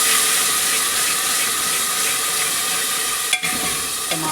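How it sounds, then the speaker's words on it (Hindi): Chopped tomatoes sizzle loudly in a pan of frying onions, a dense continuous hiss close up, with a brief clatter of stirring near the end. "टमाटर गए प्याज के अंदर"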